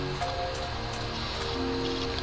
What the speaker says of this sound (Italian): Piove pure